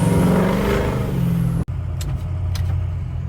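A 6.0 liter truck engine is floored and revved hard, roaring loud and close for over a second before cutting off abruptly, followed by a quieter idle with a few faint hisses.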